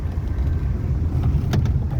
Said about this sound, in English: Our Rolls Royce is speeding at 180 km/h in this plains.